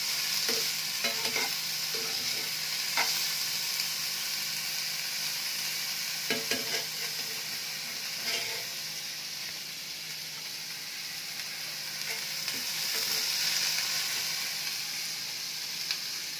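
Food fries in a pan with a continuous, even sizzle, while occasional stirring taps and scrapes sound over it. No voices are present.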